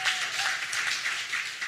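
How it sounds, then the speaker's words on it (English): Brief applause for two podcast co-hosts at a 100th-episode celebration, a short patter of several people clapping at moderate volume. "Big round of applause for these two ladies."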